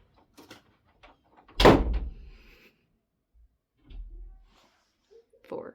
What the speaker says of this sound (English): I need you to go out and lock my door behind you